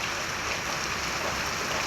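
The first monsoon rain starts falling in Antroli village, a dense, even hiss of rain on surfaces that stays constant without a break.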